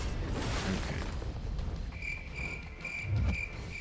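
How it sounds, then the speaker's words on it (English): Crickets chirp as a sound effect during a Marvel Contest of Champions mobile game stream, with a steady insect-like trill over background hiss that becomes a clearer, pulsing repeated chirp in the second half. "all I'm hearing is crickets"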